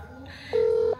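A single sustained telephone dialing tone sounds loud and steady for about half a second over a faint background hum.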